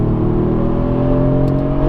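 A loud, steady engine of a 2017 Mercedes-AMG GT S drones at high revs on a race track, a constant close-up roar with no pauses.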